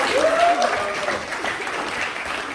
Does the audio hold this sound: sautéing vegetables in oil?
no